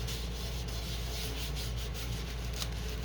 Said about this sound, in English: do a quick dry wipe rub down